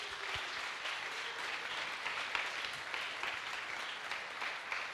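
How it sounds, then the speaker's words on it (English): An audience at an innovation program closing ceremony claps for the year's entrepreneurs, a sustained, fairly distant wash of many hands that holds steady without voices over it. "please give a big round of applause to this year's entrepreneurs"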